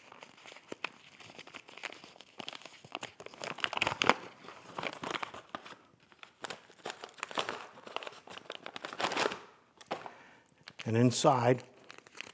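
A bag of powdered milk paint holding a foil pouch is handled and opened up close, with bursts of crinkling and tearing under a man's speech.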